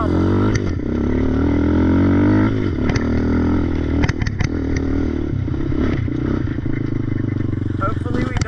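A vehicle's exhaust roars loud and close as the engine revs up and down, with throaty bursts and rattling clatter between the pulls.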